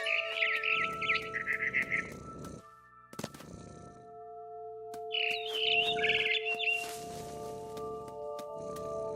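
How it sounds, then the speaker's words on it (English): Small barn swallow chirping and twittering in bursts inside the video game What Remains of Edith Finch, bright repeated calls over a steady low ambient hum with a tonal drone, no talking. "It was a barn swallow going back to her nest."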